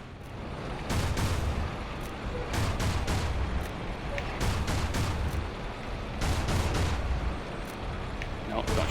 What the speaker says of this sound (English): Okay, targeting system. Main gun.